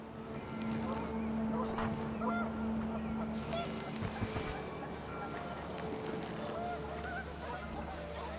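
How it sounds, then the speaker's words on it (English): Panicked geese honking in the What Remains of Edith Finch video game, a busy flurry of calls over wind and a steady low engine-like rumble. "The wind picked up and panicked geese appeared and quickly went."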